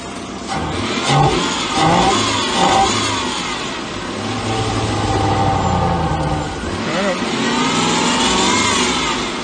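A Lexus SC400 engine running during a fuel flow test, revving up and down in several surges and briefly bogging, loud and close, with someone talking over it at times.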